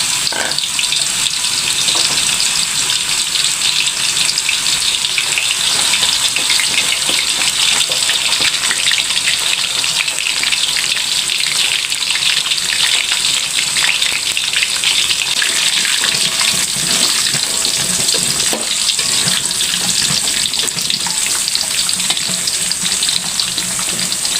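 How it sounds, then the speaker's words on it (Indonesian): Loud, continuous sizzling and hissing of tempeh frying in hot oil, steady throughout with no voices. "Habis itu goreng tempe."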